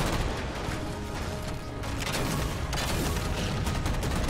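Rapid automatic weapon fire in the video game Halo 4, a dense, continuous barrage of loud shots with mechanical clatter and booms that never lets up.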